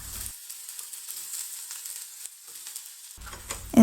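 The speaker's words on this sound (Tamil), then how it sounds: "இந்த பேனில் இன்னொரு 1/2 டீஸ்பூன் அளவுக்கு எண்ணெய் சேர்த்துட்டு நம்ம நறுக்கி வச்சுருக்க பீர்க்கங்காயை சேர்த்து" Chopped ridge gourd, skin left on, sautéing in a pan with a little oil, a soft steady sizzle with faint stirring scrapes, fairly quiet and with no voices.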